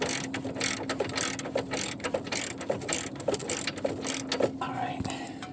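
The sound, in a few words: ratchet turning a socket on a BMW X5 axle nut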